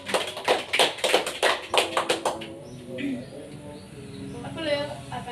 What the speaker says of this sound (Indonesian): Kita beri aplaus kepada teman-teman.